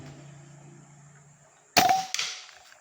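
A single sharp crack from a Mini Raptor PCP air rifle fired at about 51 meters, loud and close after a quiet background hum, followed by a brief second knock of the impact.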